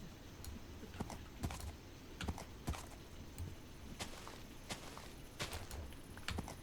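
Horse hooves clop at a walking pace in a Minecraft-style modded game (Beyond Ice and Fire), with steady repeated thuds over a low ambient background and no voices.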